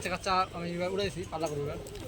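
Giribaz racing pigeons, a Bangladeshi tumbler breed, coo in short throaty bursts close by, with people talking over them.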